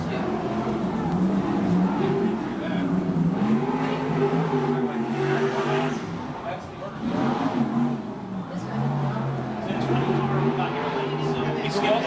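USAC/CRA sprint cars race around a track, their engines rising and falling in pitch as they rev and pass, heard at moderate distance under an announcer's talk.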